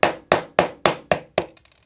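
Steel punch struck with a hammer to drive a pin out of a Ruger LCP MAX trigger assembly on a bench block: six sharp, evenly spaced metallic taps, then a quick flurry of lighter, smaller knocks.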